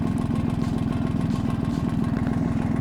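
A CVT scooter engine idles steadily up close, a loud, even mechanical putter with a fast regular pulse and faint clatter, running alone without voices.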